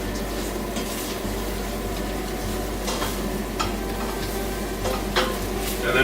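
Brown sugar is stirred into sloppy joe meat in a pan, a low continuous sizzle under soft scraping and occasional spoon taps against the pan.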